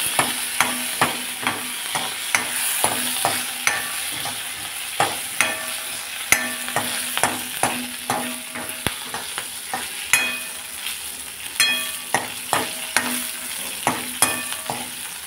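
Green chilli pieces frying in a pan for a raw mango and moong dal dish, a steady close sizzle broken by repeated sharp scrapes and taps of a spoon stirring at an uneven rhythm.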